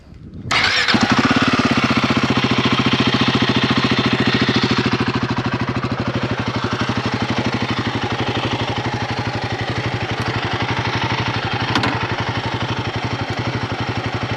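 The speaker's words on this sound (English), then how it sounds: "this is the Royal Enfield's Guerrilla 450, and listen to the exhaust note." A Royal Enfield Guerrilla 450 motorcycle fires up with a sharp catch, then settles into a loud, steady idle with an even, rapid exhaust thump heard close by, with one brief blip part way through.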